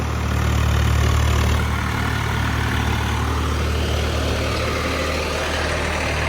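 A tractor engine runs at a steady idle, a continuous low drone with broad, even noise and no pauses.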